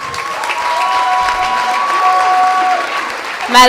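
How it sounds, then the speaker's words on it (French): Loud, sustained applause from a gala audience greeting the organizing committee members, a dense, even wash of clapping with a few whistles and a louder burst at the end. "je vous présente les membres du comité organisateur du gala qui méritent une bonne main d'applaudissements"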